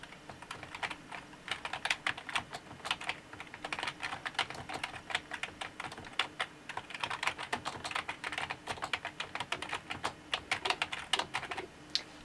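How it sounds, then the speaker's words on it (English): Steady typing on a Razer Deathstalker Ultimate keyboard, a quiet membrane-style board, as in ordinary chat: a dense run of soft, close key taps with irregular rhythm and small pauses, no voices. "I'm just going to type as if I was typing normally to a conversation to a friend."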